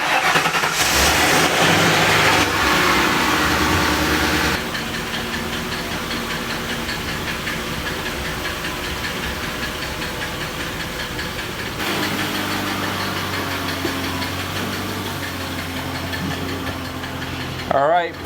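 A shop truck engine runs steadily during its first drive on air ride suspension, a loud mechanical drone that is rougher for the first few seconds and then settles into an even hum, with a brief clatter at the end.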